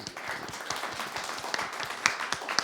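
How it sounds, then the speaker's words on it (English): An audience at a body language talk show claps in a light, moderately loud round of applause, with individual sharp claps standing out in an uneven rhythm. "give her a round of applause"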